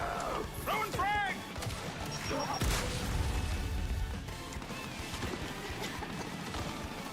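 A frag grenade going off in the Gears 5 video game, a loud booming blast about midway that rumbles on under steady gunfire and game noise, with a brief voice near the start.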